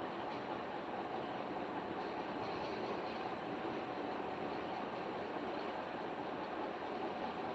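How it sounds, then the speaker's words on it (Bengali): A train at a railway station, heard as a steady broadband rumble and rolling noise that stays even and fairly loud throughout, with no clear pauses. "পরপর দুটো ট্রেন আগে ছাড়বে তারপরে যাবে"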